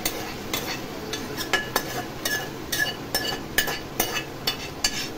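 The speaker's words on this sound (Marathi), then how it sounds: "तोपर्यंत आपण हा जे चिकन ह्या मसाल्यात टाकले कांद्यावर ते छान परतून घेऊया व्यवस्थित." Marinated chicken stir-fried with onions in a pot for green chicken korma, a close series of rhythmic spoon scrapes and clinks against the metal over a continuous sizzle, no speech.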